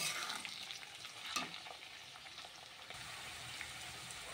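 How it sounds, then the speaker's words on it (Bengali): Spinach with cumin and turmeric sizzles in a frying pan while being stirred, a continuous close hiss with scraping strokes and a brief louder scrape near the middle, no voices. "এবার এটাকে ভালোভাবে নাড়াচাড়া করে নিচ্ছি"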